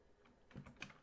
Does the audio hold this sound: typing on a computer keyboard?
yes